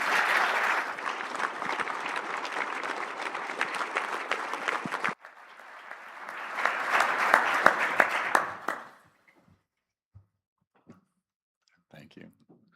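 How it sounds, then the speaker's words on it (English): An audience at a bakery industry convention panel applauds, a dense wash of clapping that stops, returns briefly, then fades into a few scattered claps and quiet room noise. "Let's give them a round of applause."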